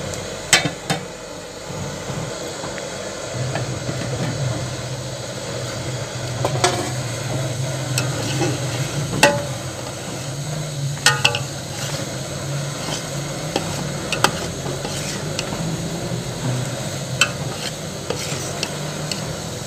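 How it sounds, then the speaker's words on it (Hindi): Food mixed in a cooking pot, a spoon scraping and clinking against the metal in irregular strokes over a low steady background, close and continuous. "अब हम इसको अच्छी तरह मिक्स कर लेंगे।"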